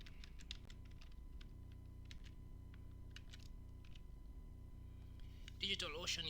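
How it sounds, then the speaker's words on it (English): Keys tapped on a computer keyboard while entering a passcode, a quick irregular run of light clicks at moderate distance, with a brief louder clatter near the end. "So I'm going to type in a passcode here."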